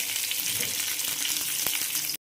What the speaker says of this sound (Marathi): लगेच आता कांदा टाकून घेते आणि कांदा पहिला तेलात छान परतून घेणार आहे